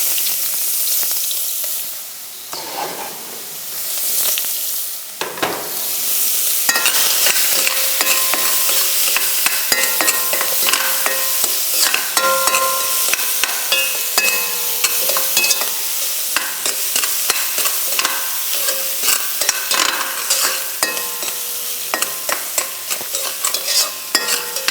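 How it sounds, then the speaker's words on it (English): Onions sautéing in hot oil are stirred steadily. A soft sizzle runs throughout, broken by frequent scraping and clinking of the spoon against the pan. The stirring grows busier and louder after the first few seconds, with no talking. "The first thing that you do is cook the onions."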